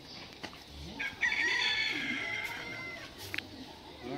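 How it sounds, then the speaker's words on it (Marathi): A rooster crows once near Dahanu, a single clear drawn-out call rising to a loud peak and trailing off, heard over faint outdoor background noise. "ऐकला का आवाज कोंबड्याचा?"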